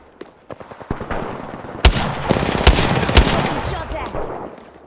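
Gunfire in the tactical video game Breach and Clear, loud rapid cracking bursts of automatic fire with a few heavier reports punching through a dense, crackling mix.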